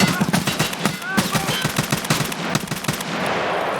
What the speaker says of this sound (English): I barely won that firefight